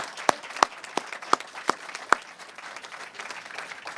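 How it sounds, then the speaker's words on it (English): An awards audience claps in a thin patter, a handful of sharp, distinct claps standing out early before the sound settles into lighter scattered applause. "let's give them all a big round of applause for all their work"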